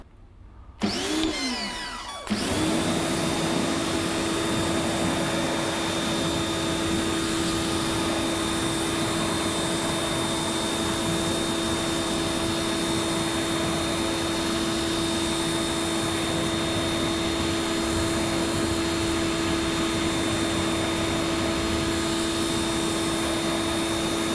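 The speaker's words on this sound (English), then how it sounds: "Let's give them a rinse." A steady, loud hiss of water spray runs continuously while car wheels are being rinsed, starting abruptly after a brief quiet moment at the beginning.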